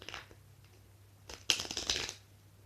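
A deck of playing cards is riffled by hand in a quiet room, with a short soft flutter followed by a louder, crisp riffle burst lasting about half a second, close by.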